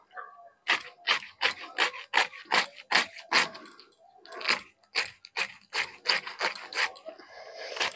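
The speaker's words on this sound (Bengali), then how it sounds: "তো বাঁধাকপিটা কেটে নেই।" Cabbage being cut on a board with a knife, a long run of crisp, regular chopping strokes close up, pausing briefly partway before continuing at a steady rhythm.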